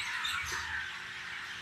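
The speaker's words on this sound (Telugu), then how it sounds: "కాకులు అన్ని రకాలు ఉన్నాయి ఈ ఏరియాలో" Crows calling from trees along a roadside, a dense overlapping chorus of harsh caws and chatter that holds steady and fairly loud for the whole moment.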